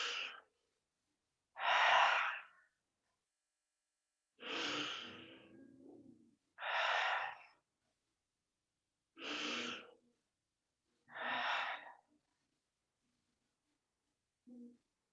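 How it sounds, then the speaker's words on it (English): Three deep clearing breaths and audible exhales during a guided yoga-style breathing practice, each a breathy burst a couple of seconds long with pauses between, followed by a few more soft breaths, close and alone in a quiet room. "we're going to enter those practices together with 3 clearing breaths"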